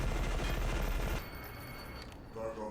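Rapid gunfire in E.Y.E.: Divine Cybermancy rattles loud and fast for about a second, then cuts off abruptly into quieter background noise.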